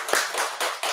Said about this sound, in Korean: 오랜만에 박수 할까요?